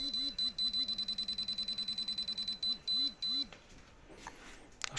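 A handheld pinpointer metal detector beeps in a fast, steady train of electronic pulses near metal. The beeps pause briefly, resume, then stop, leaving quiet handling noise.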